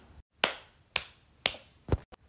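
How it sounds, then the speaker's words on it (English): Three sharp hand claps spaced about half a second apart, close and distinct in a quiet room, followed by a couple of softer taps. "you have to clap 3 times"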